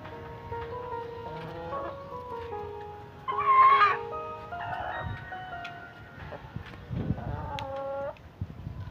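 An Aseel rooster crows nearby, a drawn-out call with a loud peak, amid other scattered farmyard bird calls and low background noise.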